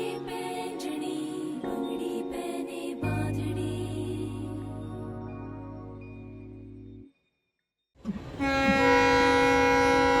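A meter gauge passenger train stands at Marwar Junction in Rajasthan early in the morning, with a steady low engine drone and loud hissing and clanking that stop briefly before a sharp horn blast rises near and loud.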